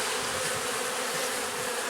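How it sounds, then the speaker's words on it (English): Honeybees swarm around a hive feeder and inner lid, a loud, steady, close buzzing drone that fills the whole moment without a break. "I'll get the feeder back on. Get these bees out of here."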